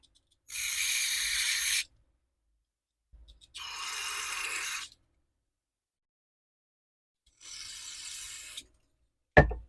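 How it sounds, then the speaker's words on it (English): Three short bursts of aerosol carburetor cleaner hissing onto the carburetor jets of a Toro CCR2000E snowblower, each about a second long with pauses between, followed by a sharp click at the end. "We'll spray down these"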